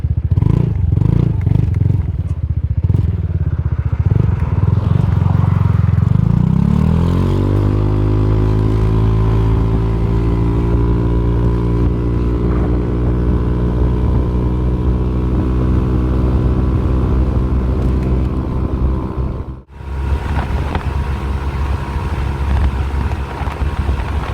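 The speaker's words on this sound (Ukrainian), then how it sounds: "Труба звучить приємно, трішки гучно" Yamaha Nmax 125 scooter engine and exhaust running close by, a loud idle that revs up, then settles into a steady raised drone with a brief dip near the end, buffeted by wind noise.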